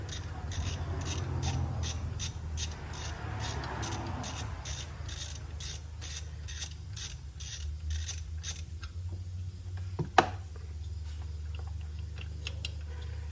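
A ratchet spins out the 15 mm belt tensioner bolt on a 2008 Silverado 4.3L: a fast, even series of close clicks for about nine seconds, then quiet with a single sharp metallic clink near ten seconds.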